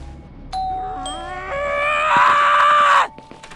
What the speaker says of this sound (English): now 14th doorbell